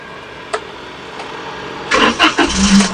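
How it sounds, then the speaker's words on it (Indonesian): A Daihatsu Ayla car engine starting, with a couple of faint clicks from the ignition, then a short cranking whirr that catches and settles into a steady, close idle. "Oke, coba kita starter sekarang."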